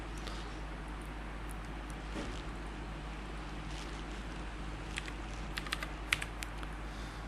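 Someone types on a computer keyboard while entering a date of birth, with scattered soft key clicks that grow into a few sharper taps near the end over a steady low background hum.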